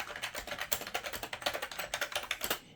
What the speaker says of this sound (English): There's a softness to these keys which is quite pleasing. And it sounds quite nice.